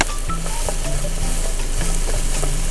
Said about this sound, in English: I'm just going to stir this up, coat the onion with the butter